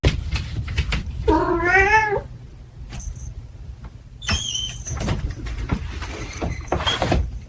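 A cat meows loudly and insistently up close, a long wavering cry followed by a second sharper meow, over a low steady background rumble.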